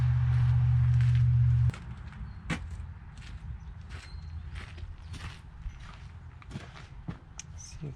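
Hands rummaging through a box of screws in a garage while working on a John Deere X485 lawn tractor: scattered close metallic clicks, rattles and knocks, after a brief steady hum cuts off.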